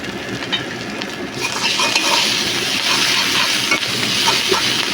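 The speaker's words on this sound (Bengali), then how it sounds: "মশলাগুলোকে এখন ভালোভাবে নেড়ে মিশিয়ে নেব।" Spice filling for stuffed teasel gourd, seasoned with roasted coriander and cumin powder, sizzles loudly in a hot pan while a utensil stirs it, a continuous close frying hiss with scraping movements.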